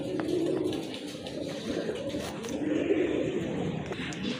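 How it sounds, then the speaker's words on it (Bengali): Several pigeons coo in a low, soft, continuous murmur at close range, a layered warbling drone with faint rustles over it. "আরেক জোড়া কবুতর মাশাআল্লাহ খুবই সুন্দর"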